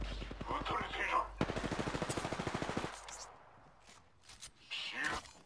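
Rapid automatic gunfire in the video game Apex Legends, a fast burst of close, punchy shots, followed by quieter game sounds and a voice speaking.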